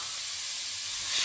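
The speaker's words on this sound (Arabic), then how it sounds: "هنزل بقى بالصدور الفراخ بتاعتي" Chicken breasts hit a hot pan of onion and garlic, giving a loud, steady hiss that swells slightly toward the end.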